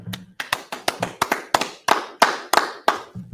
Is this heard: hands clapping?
yes